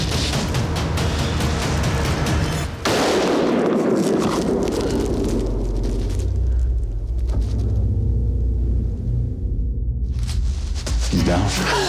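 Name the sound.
rifle gunshot at a mule deer while hunting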